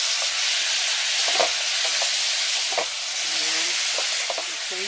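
Brussels sprouts coated in maple syrup sizzle and hiss steadily in a hot pan, a continuous close frying crackle with a few brief clinks of stirring.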